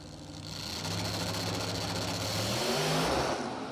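Radial drag cars launch off the line at a drag strip, a loud sustained engine roar with rising pitch and a tire-spinning rasp, steady and close throughout.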